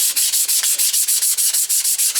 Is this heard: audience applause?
no